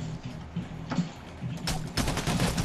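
Gunfire in Payday: The Heist, scattered single shots early on, then a dense rapid burst of automatic fire toward the end, fairly close.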